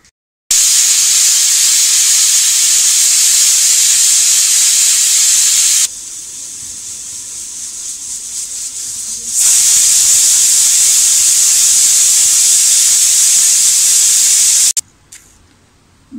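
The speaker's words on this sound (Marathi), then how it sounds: "आता आपण झाकण लावूया आणि फुल गॅसवर आपल्याला 2 शिट्या द्यायच्या आहेत." A pressure cooker on full gas while cooking bottle gourd with chana dal lets out a loud, steady steam whistle-hiss, drops to a quieter hiss for a few seconds, then surges back at full strength before cutting off abruptly.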